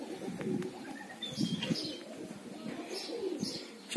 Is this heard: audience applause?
no